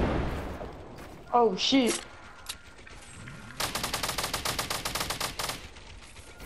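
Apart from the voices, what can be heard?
gunfire in the video game Fortnite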